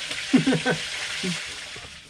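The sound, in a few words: wild dove frying in a pan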